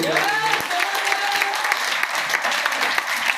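An audience at a network marketing motivation seminar breaks into loud, sustained applause, dense clapping filling the room with a few whoops and cheers over it.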